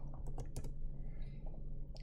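Computer keyboard keys are pressed in a quick, light burst of clicks, several close taps clustered early on and one more near the end, all fairly quiet against a low background hum.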